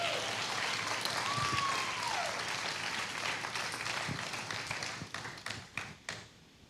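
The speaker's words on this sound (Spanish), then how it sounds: "¿Cuánto le dan un aplauso al Señor?" A church congregation applauds during a sermon, dense sustained clapping that fills the room for about five seconds before thinning to a few scattered claps.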